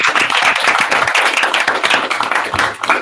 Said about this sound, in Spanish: le damos otro aplauso a Elena en agradecimiento